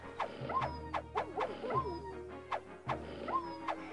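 Dogs barking in the city-building game Caesar 3, a looped pattern of sharp yips and barks repeating every second or so over a low steady game hum, fairly quiet overall.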